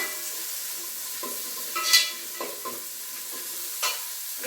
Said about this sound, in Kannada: ಈ ರೀತಿ ಈರುಳ್ಳಿನ ಫ್ರೈ ಮಾಡ್ಕೊಬಿಡೋಣ ಒಂದು ಸ್ವಲ್ಪ ಬಣ್ಣ ಚೇಂಜ್ ಆಗೋ ತನಕ ಫ್ರೈ ಮಾಡೋಣ